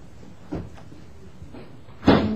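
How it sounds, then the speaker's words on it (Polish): A door opened in a hot kitchen at home, heard as a soft creak and a couple of light knocks before a sharper, louder clunk near the end, close by in a quiet room. "Otworzę drzwi."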